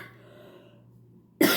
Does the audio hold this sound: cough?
yes